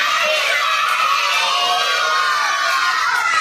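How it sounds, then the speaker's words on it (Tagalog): A crowd of children shouting "happy birthday" together in a loud, sustained burst of high-pitched voices, close and continuous throughout. "Sabay-sabay natin yung sigaw. Ang happy birthday, Cleo."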